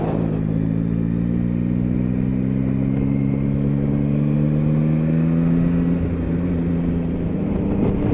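A Yamaha Tracer 9 motorcycle cruises on the M6 motorway with a steady, droning engine hum and constant wind and road rumble, no voices present.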